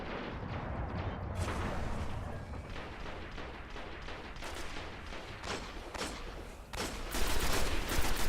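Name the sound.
gunfire in video game Destiny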